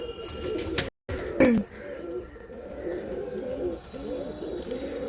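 Pigeons coo steadily at close range, a low rolling murmur throughout, with a brief knock and a short interruption near the start.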